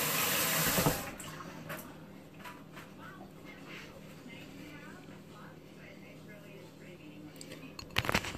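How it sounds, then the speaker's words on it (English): Water runs from a tap into a sink during handwashing, a close, steady splashing rush that starts loudly, settles into a softer flow with small knocks, then brief louder splashes near the end. "wash my hands real quick."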